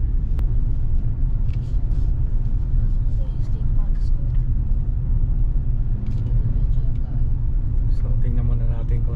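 A 2024 Hyundai Santa Fe XR rolls along the road on its own, with a steady low road and engine rumble throughout and people talking inside the cabin.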